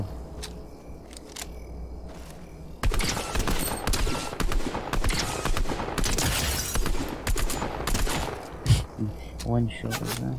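A Ranger shotgun fires in a video game, producing a dense run of loud, close gunshot blasts after a quieter start, with people talking over the action.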